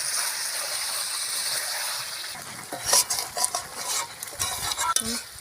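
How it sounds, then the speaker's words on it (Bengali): Country chicken curry being stirred in a pot, a soft simmering hiss at first giving way to a run of close, uneven scraping and clinking strokes of a spoon against the pot. "ঢাকাটা খুললে আবার নাড়াচাড়া করে দিচ্ছে"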